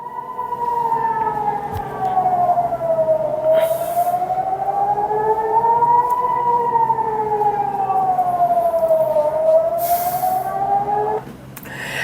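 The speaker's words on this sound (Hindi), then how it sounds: "एक तो सायरन बज रहा" An air-raid siren wails during a missile attack on Israel, a loud steady rising and falling tone that sweeps slowly up and down for about eleven seconds before cutting off.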